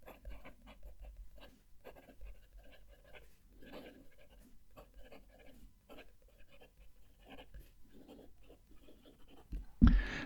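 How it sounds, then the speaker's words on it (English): A Visconti Breeze fountain pen writing on paper with the mic close to the page: faint, close scratchy strokes in short irregular bursts, ending in a louder bump. "I'm going to fetch the pens out in the same order and write a sentence with each of them"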